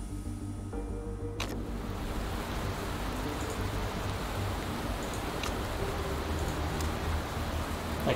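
Steady, faint rain hiss fills the race in the Motorsport Manager video game, an even wash of noise with a few brief clicks and no talk.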